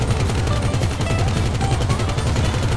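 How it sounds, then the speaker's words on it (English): Rapid, dense gunfire from a sniper rifle in the video game GTA V, sustained and loud for the whole stretch, with shots overlapping into a continuous rattling barrage and no talk. "I sniped him midair, dude"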